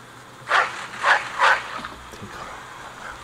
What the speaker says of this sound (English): Ah, another dog.